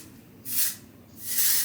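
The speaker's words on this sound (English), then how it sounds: "I immediately go to spray my hair" Oribe texturizing hairspray sprayed onto hair in two close, hissing bursts of about half a second each, separated by a short pause.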